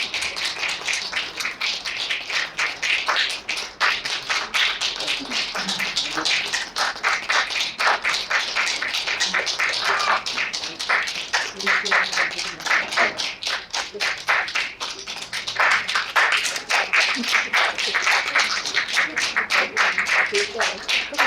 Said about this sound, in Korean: 모두 박수로 환영해 주시기 바랍니다.